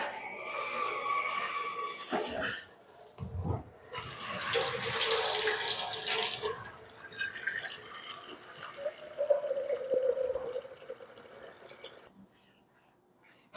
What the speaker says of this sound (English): I'm gonna go get my water now